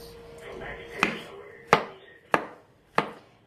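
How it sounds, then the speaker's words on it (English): Four sharp knife chops through mushrooms on a cutting board, spaced about a second apart, close and crisp against a faint background hum. "So I'm going to start with the mushrooms, chopping of the mushrooms."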